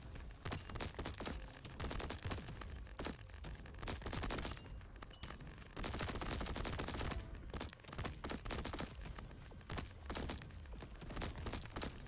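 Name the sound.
sniper gunfire in Crab Champions video game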